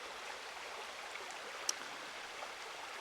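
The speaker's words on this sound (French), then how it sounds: "cette petite rivière qui se trouve en montagne bourbonnaise, donc dans l'Allier." A small mountain river in the Bourbonnais mountains of Allier flows steadily, a soft continuous wash of water with faint droplet ticks, even and unbroken throughout.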